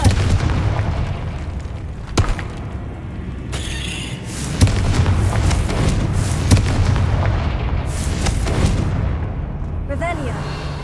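Repeated booming blasts from the Confringo fire spell in Hogwarts Legacy, several sharp explosive bursts spread over the stretch with rumbling low-end decay and game ambience between them.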